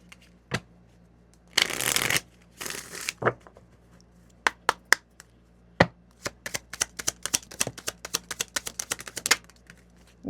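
Soulmate oracle cards shuffled close up: a couple of longer riffling bursts early on, then a brisk patter of sharp card snaps and taps, heard alone without talk.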